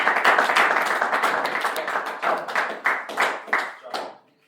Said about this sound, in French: Veuillez d'abord applaudir.